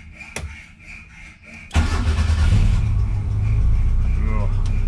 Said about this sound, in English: So let's start this puppy up.